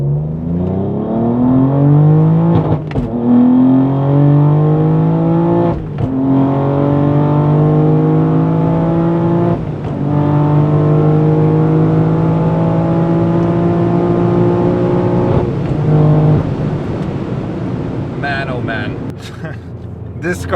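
Tuned manual BMW M3 G80 with Stage 3 tuning, about 855 hp, accelerating hard through the gears with traction control off, the engine note climbing loud and close and dropping at each shift, several shifts in a row, with talk from inside the car.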